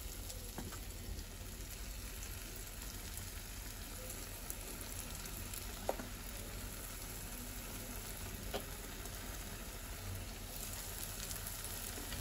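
Bondas deep-frying in hot oil, giving a steady, even sizzle and crackle that runs the whole time, with a few faint clinks and no voices.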